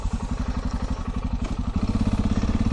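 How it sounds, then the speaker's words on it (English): Motorcycle engine idling close by, a steady rapid thumping pulse that quickens slightly after a brief rev, running alone without talk. "And then I will start the bike"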